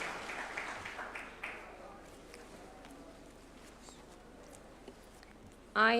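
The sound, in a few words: applause at a judges' swearing-in ceremony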